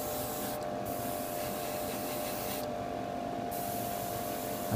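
An airbrush sprays paint onto the frame of a large Gundam RX-78-2 model kit, giving a soft, continuous hiss that holds steady throughout and drops out briefly twice. No one speaks.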